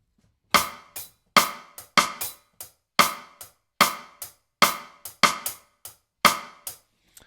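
Soft drum groove with crisp hi-hat ticks and sharp snare side-stick clicks in a steady, light pattern, close and quiet, without other instruments.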